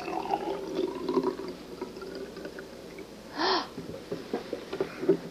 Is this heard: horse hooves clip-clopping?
no